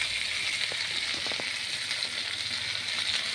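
Pork sizzling on an oil-free pan over strong heat, grilled and fried at once, giving a steady close hiss with a few faint crackles and no talk.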